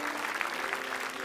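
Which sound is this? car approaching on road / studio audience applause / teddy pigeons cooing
studio audience applause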